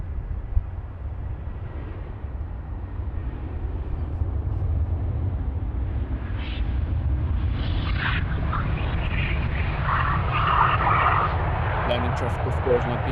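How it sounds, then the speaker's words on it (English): Airliner arriving on runway 27 at Amsterdam Schiphol Airport, a steady low engine rumble that swells gradually and holds as the aircraft passes, with a person talking throughout. "Landing traffic, of course, not being so loud as departing traffic"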